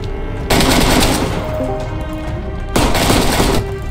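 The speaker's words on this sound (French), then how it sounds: "Il se prend 5 balles de 357 et le mec il tombe juste par terre" Two loud bursts of gunfire from a .357 in the video game DayZ, each lasting about a second with a lingering tail between them, heard close and without talk.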